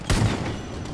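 A single loud gunshot boom in Far Cry 5, sharp at the onset then decaying into a rumbling tail, with a faint second report near the end.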